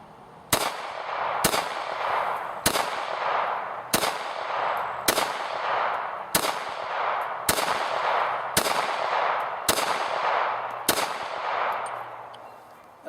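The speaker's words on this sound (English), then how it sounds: "first magazine that I'm going to be firing is actually going to be just a test fire, and then I'm going to actually do a rapid fire" Glock 30 SF pistol test fired one shot at a time, about ten sharp cracks at a slow, fairly even pace of roughly one per second, each with a short ringing decay, no talking.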